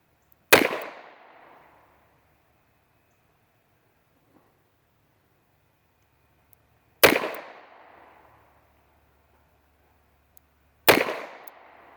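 Three sharp, loud gunshots from an Astra 4-inch .38 Special revolver, spaced several seconds apart, each ringing out with a short echoing decay, with quiet between shots and no talking.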